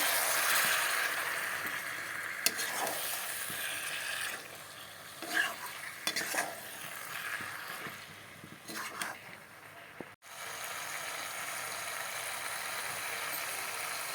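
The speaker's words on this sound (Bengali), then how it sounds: "এখন চিকেনগুলোকে ঢেলে দেবো দেখো চিকেনগুলোকে ঢেলে দিয়েছি এখন ভালো করে কষিয়ে নেব" Chicken sizzles in a pan of spice paste while a spoon stirs and scrapes, with soft clatters of utensil against pan over a steady low frying hiss.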